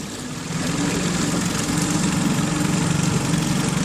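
Steady, close engine drone with a buzzy mid-range hum, a small outboard motor on a tiller-handle boat idling evenly at low throttle without pause.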